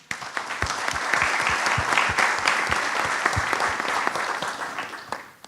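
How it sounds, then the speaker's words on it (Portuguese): A conference audience applauds in an auditorium, a sustained burst of clapping that starts suddenly, holds steady and tapers off near the end. "Palmas para todos."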